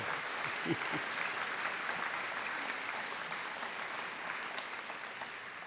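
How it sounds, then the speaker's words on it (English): Applause at a Trent University convocation ceremony marking 50 years, a broad hall of steady clapping that slowly fades toward the end. "round of applause for 50 years at Trent would be good"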